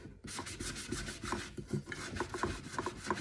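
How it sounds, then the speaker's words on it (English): A sanding sponge rubs sideways across a painted tumbler in quick, rhythmic rasping strokes, close and fairly quiet, each pass a short scratchy swish. "Take your sanding sponge, go sideways."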